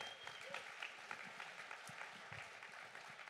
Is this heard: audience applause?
yes